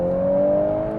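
A Volkswagen Golf R in race mode downshifts, its engine note holding a steady, rising tone with a slight whir, loud and close for about a second with no talking.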